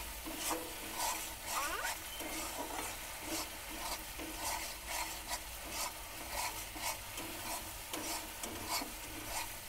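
Spices and red chili powder being stir-fried for a Bengali fish curry, a spatula scraping and stirring steadily in the pan over a soft, continuous sizzle, close and fairly quiet.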